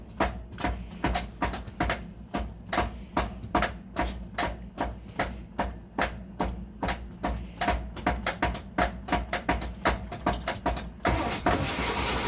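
A 1972 Buick Sportwagon engine cranks over without catching, a fast, even, rhythmic churning of the starter that runs unbroken for about twelve seconds, close and fairly loud.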